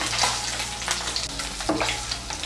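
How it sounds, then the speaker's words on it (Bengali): Shing fish fry in oil in a pan, crackling and sizzling steadily up close with scattered pops and stirring scrapes, under a low background hum and without speech. "ঢাকা চাপা দিয়ে মাছগুলোকে আমি লাল করে ভেজে নিয়েছি।"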